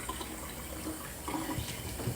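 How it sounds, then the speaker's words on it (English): Tap water runs steadily into a bathtub as it fills, a constant faint wash of flowing water in an indoor bathroom, with brief soft voice sounds near the end. "Let's get that water started."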